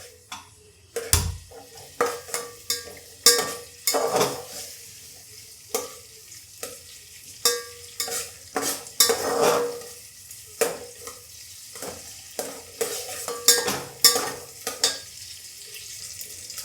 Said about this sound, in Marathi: कांदा थोडासाच आपण लालसर परतायचा आहे.